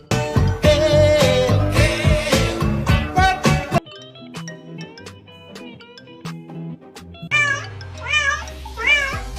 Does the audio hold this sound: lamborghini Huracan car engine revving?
no